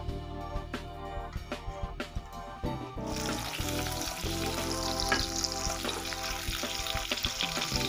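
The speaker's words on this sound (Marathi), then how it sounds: "कढई गॅसवर ठेवलेली आहे. 2 चमचे तेल आणि 2 चमचे बटर घालून घेऊया." Oil and butter sizzle and crackle steadily in a kadhai on a gas stove, the frying hiss swelling louder after a few soft clicks and stirring taps at the start.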